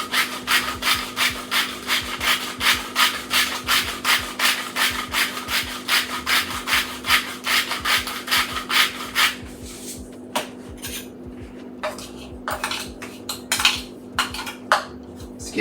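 Dried Italian seasoning being stirred into plain breadcrumbs in a bowl: steady, rhythmic scraping and rubbing strokes for several seconds, then a few sparse taps and clinks, close by with no talking.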